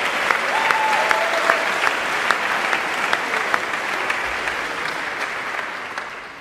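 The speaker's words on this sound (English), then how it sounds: "Let's give another round of applause to the Luther cheer team." A large audience claps steadily for the Luther cheer team at a college welcome event, with a full, sustained round of applause that slowly tapers at the end.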